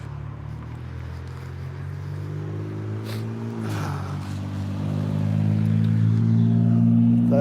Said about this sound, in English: That loud car is kind of right there